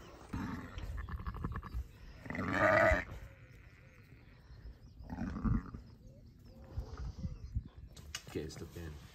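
Sheep bleating on a farm, a ewe with twin lambs calling in loud close bleats amid rustling and handling noises, with people talking nearby.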